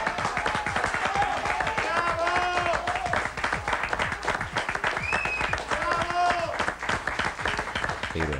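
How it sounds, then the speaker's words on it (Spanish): Crowd applause during the 2001 Argentine crisis, dense sustained clapping with voices, cheers and whistles rising over it, loud and continuous. "Yo aplaudo"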